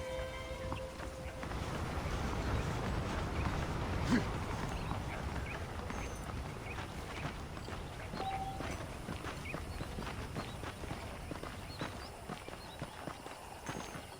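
A saddled horse clip-clops at a walk in the Western video game Red Dead Redemption, with a steady stream of quiet, close hoofbeats over a soft outdoor ambience.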